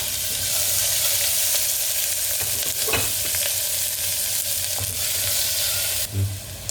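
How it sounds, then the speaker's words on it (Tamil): Onion, garlic and dried red chillies sauté in a pan, giving a continuous close sizzle with occasional scrapes of a spoon and a brief clatter near the end. "இப்போ அடுத்து இந்த வெங்காயம், வெள்ளைப்பூண்டு, வரமிளகாய் இதெல்லாம் போட்டு வதக்குங்க"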